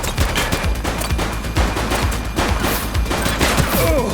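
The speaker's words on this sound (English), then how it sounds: "He's shooting!" Rapid police shootout gunfire in the video game The Precinct: loud, dense bursts of overlapping shots crack continuously for several seconds with no pause.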